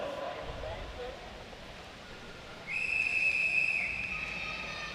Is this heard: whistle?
yes